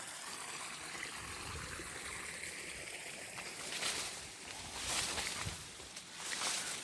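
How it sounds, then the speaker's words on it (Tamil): Faint, steady trickle of water draining from an upper farm field down into a lower field on agricultural land near Erode, with soft gurgling swells and light outdoor noise. "வடிகால் அந்த மேல் வயலேருந்து தண்ணி வடியுது, கீழே போகுது."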